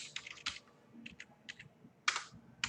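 Code being typed on a computer keyboard, close and fairly quiet, with bursts of crisp key clicks and short pauses between them and one sharper clack near the end.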